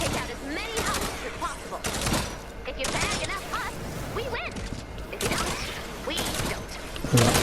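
Primal Pistol fire in Fortnite Save the World: heavy, evenly spaced shots at a slow rate, each a loud punchy crack with a short tail, over constant game background noise.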